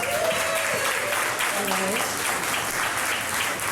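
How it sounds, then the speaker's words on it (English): An audience applauds a panelist at a Chicago real estate panel. The steady, dense clapping fills the room throughout, with a voice briefly heard over it. "How about a round of applause for this?"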